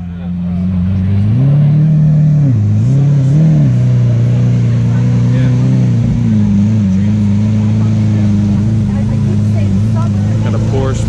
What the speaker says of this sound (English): check out this Aventador SV Roadster pulling in